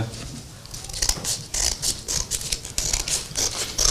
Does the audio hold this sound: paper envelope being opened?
yes